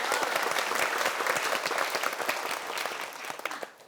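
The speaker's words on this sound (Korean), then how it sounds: "박수 한번 주세요." An audience at a lecture event breaks into dense, sustained applause, loud and close, tapering slightly at the end with no voices over it.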